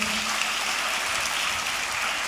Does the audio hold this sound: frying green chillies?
no